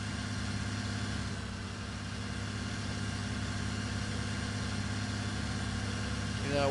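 A farm tractor engine in a farming video game runs at a steady, even idle, with a continuous low drone and a rough mechanical texture at a constant close level throughout.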